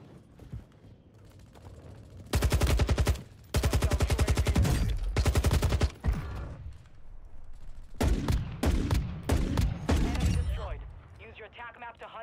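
Gunfire in the Warzone video game comes as long loud automatic bursts, then shorter choppy volleys, close and dominant, with mechanical clicks and faint voices between the bursts.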